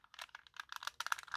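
Plastic transforming toy parts, including tank treads, are folded down and squeezed into place, giving a quick run of small, quiet clicks and snaps close by.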